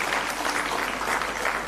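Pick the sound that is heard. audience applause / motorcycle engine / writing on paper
audience applause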